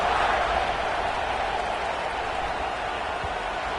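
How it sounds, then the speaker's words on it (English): Dense football stadium crowd buzzing after a score, a steady, loud roar of many voices filling the whole clip without breaks or distinct talk. "this crowd is buzzing after that last score"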